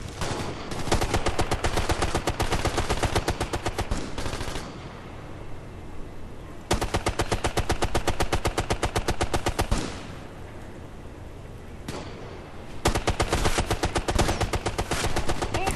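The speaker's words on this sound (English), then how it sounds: "The turret's still firing" Automatic turret gunfire from Ghost Recon: Future Soldier rattles off in three long, rapid bursts, separated by brief pauses of lower rumbling game ambience.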